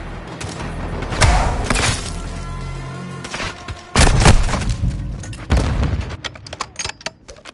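A grenade blast in the shooter game Call of Duty MW2: heavy booming bursts with crackling debris come in several loud waves amid ongoing battle noise, no talk over it.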